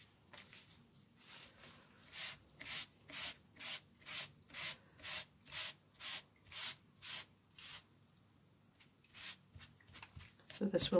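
Coating being rubbed onto a paper bag to make faux leather: about a dozen regular, rhythmic brushing strokes, close and fairly quiet, followed by a few softer scuffs and handling noises.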